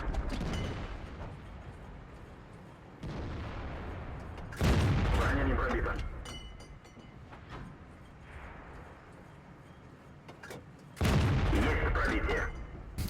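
Heavy tank cannon shots boom in the video game World of Tanks, a few loud blasts spaced several seconds apart with rumbling tails and quieter battle noise between, while a voice talks faintly at times.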